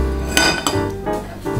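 Clinks and knocks as a bowl is set beneath a strainer while making Greek yogurt from plain yogurt in a home kitchen, several close hard contacts of dishware within under two seconds.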